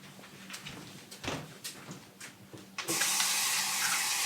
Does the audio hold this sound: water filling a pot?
yes